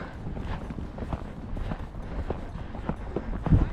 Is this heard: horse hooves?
yes